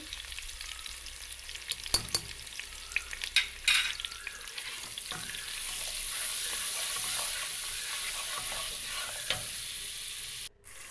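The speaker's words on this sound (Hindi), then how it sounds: "मसाले को अच्छी तरह फ्राई किया करें, इससे टेस्ट में इजाफ़ा होता है।" Turmeric, salt and spices fry in a pan for a Pakistani tinda curry, making a soft, continuous sizzle broken by a few sharp stirring clicks and scrapes.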